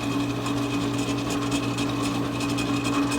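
A wood lathe hums steadily at speed while paste wax is applied to the spinning piece during a paint-splatter and factory-finish removal job, a close continuous whir with faint rubbing.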